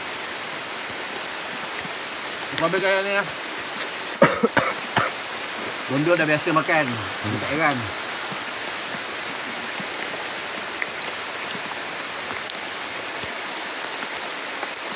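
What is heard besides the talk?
heavy rain falling at night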